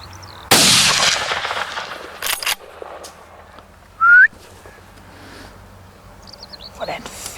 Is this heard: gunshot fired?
yes